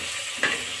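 Spatula stirring onions sautéing in a hot pan for tomato rice, a steady close sizzle with one brief scrape of metal against the pan midway.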